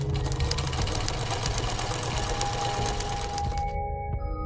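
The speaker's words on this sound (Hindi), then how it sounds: "टीवी देखते हुए सिलाई मशीन पर सिलाई का काम करने लगी" A sewing machine stitching at home while a TV plays, a fast, even mechanical whirring patter that runs steadily, then stops abruptly near the end, leaving a quiet hum.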